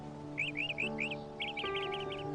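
Cartoon bird chirping in the movie Fred Claus: a bright run of about four quick chirps, then a faster fluttering trill, loud and close over a sustained musical score.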